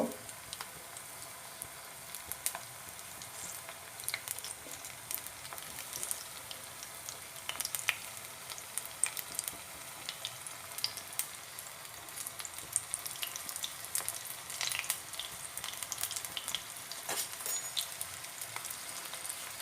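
Paneer pakora pieces frying in hot oil while being turned, a soft continuous sizzle with scattered crackles and light pops throughout, fairly quiet and with no talking.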